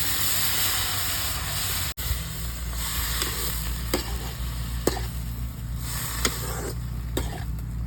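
Mustard seeds, garlic and banana stem frying in a pan, a continuous close sizzle and hiss with occasional sharp pops and ticks, no talking.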